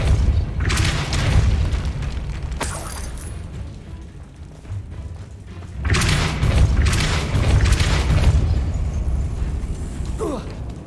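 Depulso force spells cast in the Hogwarts Legacy game, heavy booming bursts with rumbling tails, two loud waves separated by a quieter stretch, with faint talk beneath.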